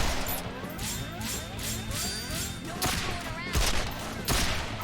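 Video game gunfire aimed at an enemy rattles in rapid overlapping shots, with a few heavier bursts standing out over constant background game sound and music, loud and close.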